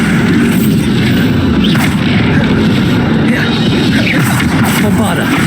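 In Hogwarts Legacy, Bombarda blasting spells go off amid combat, and a dense, booming explosive roar with heavy low rumble fills the whole stretch very loudly, layered with battle noise.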